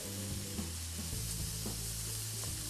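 Veal medallions sizzle quietly in a hot pan as they are flipped, producing a soft continuous crackle with a few low clunks from the turning.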